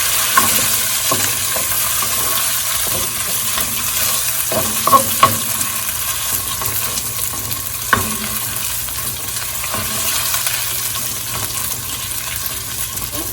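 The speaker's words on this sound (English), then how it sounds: "While that's frying up, let's go ahead and add our paprika in there." Steady sizzling of chicken frying in a pan, with occasional stirring clinks, loud and continuous with no talking.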